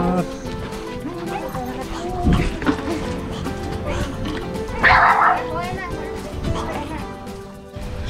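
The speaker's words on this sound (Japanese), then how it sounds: "こっちに四国犬もいます" Shiba and Shikoku dogs barking and yipping at a busy outdoor rabies vaccination site, sharp repeated barks with a dense burst midway, heard close under steady talk from people nearby.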